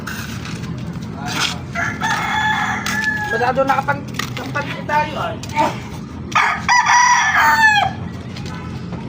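Free-roaming chickens on a street, roosters crowing in drawn-out calls and hens clucking nearby, with people talking intermittently over them.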